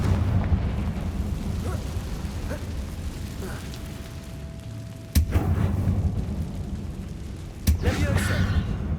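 A Confringo fire-blast spell explodes in the Hogwarts Legacy video game, two sharp, loud bursts a few seconds apart rising over a steady rumbling game ambience.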